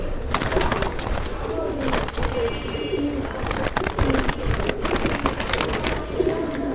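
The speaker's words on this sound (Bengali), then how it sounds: "এই যে একটা কবুতর এটাও পুরান জাতের কালো গলা কবুতর" Old-breed black-necked pigeon in a busy loft, its soft cooing mixed with other bird calls over a steady, noisy background.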